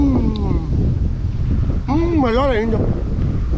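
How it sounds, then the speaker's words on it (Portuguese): Wind gusts buffet the microphone beside a lakeside grill, a constant rushing roar while a person speaks briefly over it. "Olha o vento, olha o vento."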